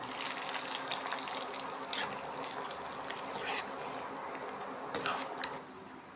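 A hot tempering of oil and spices is poured over cooked tapioca and colocasia stems, giving a steady close sizzle with a few brief louder hisses and faint voices underneath.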